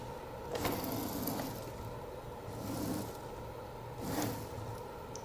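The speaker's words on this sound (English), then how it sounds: "I just got a little script lifting it up and down." A scripted B9 robot bubble lifter mechanism raises and lowers its bubble, producing a low mechanical whir that swells and fades in about three regular cycles against a constant hum.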